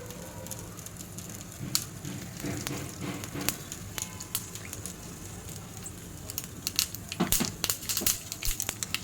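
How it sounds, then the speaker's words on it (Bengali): Mustard seeds spluttering in hot oil in a pan, as the first step of a low-oil eggplant-in-yogurt curry, give a steady scatter of sharp crackles and pops over a low frying hiss, growing denser toward the end. "দেখুন সর্ষেটা অলরেডি ফাটতে শুরু করে নিয়েছে"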